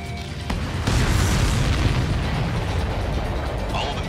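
Nuclear missiles in Ace Combat 7 explode in a deep, roaring boom that swells and then holds as a dense, sustained rumble, with a couple of sharp cracks at the start.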